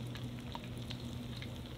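Prawns shallow frying in hot oil, a steady close hiss with scattered pops and crackles over a low electrical hum, continuous with no voices.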